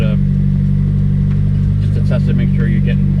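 A car engine idles steadily right after starting while brake pads and rotors are being prepped for track driving, its loud, even rumble running throughout beneath someone speaking.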